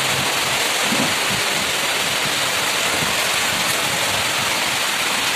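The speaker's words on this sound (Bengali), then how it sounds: "আমি এই জায়গাটা মিউট করিনি, কারণ বৃষ্টির আওয়াজটা শোনাবো বলে" Fine, dust-like rain falls steadily outdoors as a dense, even hiss that stays loud and unbroken throughout, with no voices.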